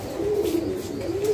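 A Dragon Homer fancy pigeon coos in a steady, low, rolling murmur held close by, continuous across the moment with faint background hiss.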